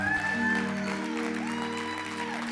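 A church congregation claps along while sustained organ-like chords and tones ring over a steady, mid-distance wash of applause.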